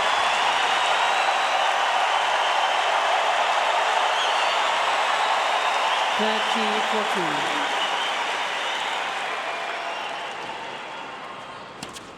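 Crowd at a US Open tennis match between Federer and Youzhny cheering, a broad roaring wash of applause and voices that holds steady then slowly fades, with a brief voice in the middle.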